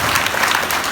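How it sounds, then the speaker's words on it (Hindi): Audience clapping steadily and densely through the whole moment at a Raas Leela stage performance, a sustained wash of many hands with no voices over it. "जोरदार तालियां आप लोगों के नाम से"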